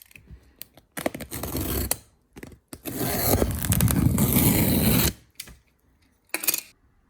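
Cardboard packaging of a DeLonghi Dinamica with LatteCrema espresso machine, model ECAM35075SI, being opened: bursts of scraping, sliding cardboard and rustling, near and fairly loud, separated by brief pauses, with no talking.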